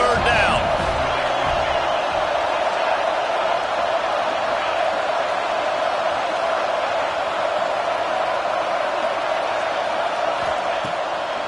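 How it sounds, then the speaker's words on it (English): Football stadium crowd roaring on a 3rd down as fans rally behind the defense, a dense, steady wall of loud cheering and noise that holds at full volume throughout with no letup. "Decibels rising as the crowd gets behind this defense on 3rd down"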